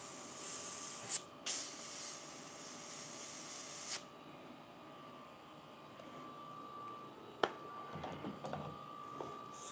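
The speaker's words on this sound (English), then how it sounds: "I'm angling inward just so I don't get overspray going crazy everywhere." Paint sprays onto a white shirt in two close, strong hissing bursts, a brief puff and then a longer steady blast, followed by quieter handling sounds.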